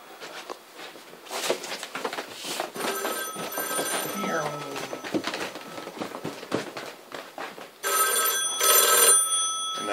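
A rotary phone connected to a Panasonic 308 PBX rings in loud metallic bell bursts near the end, after a stretch of clattering handling noise and speech.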